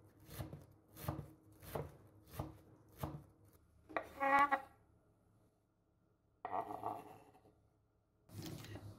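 Knife chopping greens on a cutting board at home, five quick evenly spaced chops followed by a few louder scraping and clattering bursts, close and clear.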